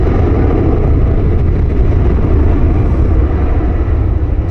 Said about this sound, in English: FedEx 1463 Heavy 767 heading back to Memphis.